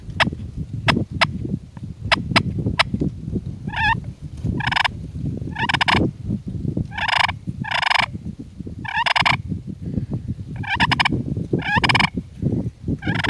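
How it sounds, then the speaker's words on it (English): Sharp, short clucks and quiet tree yelps from a slate-faced turkey pot call, sounded in quick clusters over a low rumbling background. "quiet tree call, nice clucks"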